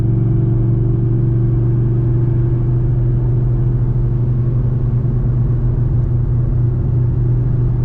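A 900 hp Camaro ZL1 engine, running with a misfire, gives a loud, steady, deep rumble heard from inside the car, with no talk.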